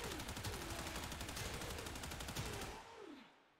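Rapid continuous automatic fire from the Soma rifle in Warframe, a dense steady stream of shots lasting nearly three seconds, then fading out alone.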